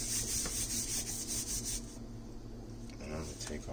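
Hands rubbing seasoned salt and seasoning into a fatty cut of beef for birria tacos, a steady close scraping rasp that eases off partway through, with no talk.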